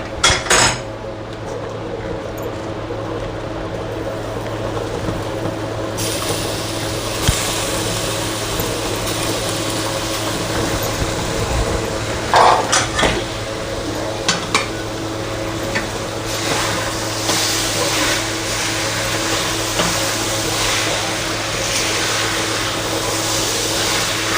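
Mango pieces stirred into bubbling jaggery syrup in a metal pot for gulamba, with spoon clinks and scraping against the pot over a constant low hum, close by.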